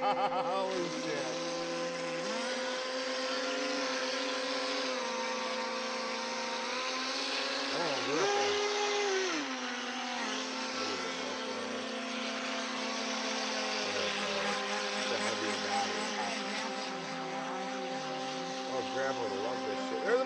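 A motorboat engine drones steadily and loudly throughout, its pitch rising and falling slightly as the throttle shifts, with occasional voices underneath.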